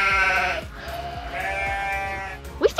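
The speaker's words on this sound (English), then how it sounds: "Here's the goats." Goats at a ranch bleat loudly and close by, two drawn-out wavering calls one after the other, with a short sharp noise at the end and no talk.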